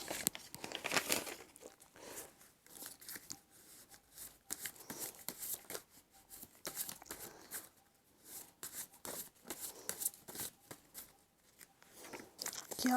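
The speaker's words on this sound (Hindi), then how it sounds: "मैं कुछ और कार्ड्स निकालूंगी।" Cards being drawn and shuffled by hand during a card reading: repeated close, crisp rustles, flicks and soft slaps in an irregular rhythm, with no voices.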